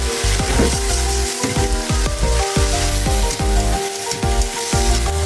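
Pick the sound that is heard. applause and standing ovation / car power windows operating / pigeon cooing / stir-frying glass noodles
stir-frying glass noodles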